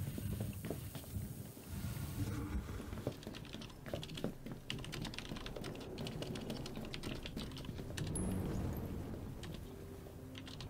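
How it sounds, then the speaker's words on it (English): Computer keyboard typing runs steadily and close, with dense rapid key clicks continuing without a break across about ten seconds, over a low room background and with no speech. "Why do I keep typing in caps?"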